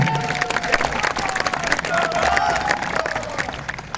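A rally crowd demanding restoration of the old pension applauds in a dense, continuous patter of many hands, with scattered cheers rising over it, fairly loud and close throughout.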